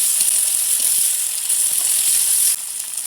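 Onion with garlic and ginger paste frying in oil, a steady bright sizzling hiss that stays loud and even throughout and dips slightly near the end.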